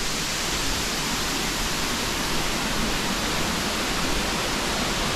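Small Dexing Waterfall in Lugu, Nantou, running strong, a constant close roar of falling water, broad and unbroken, with no voices.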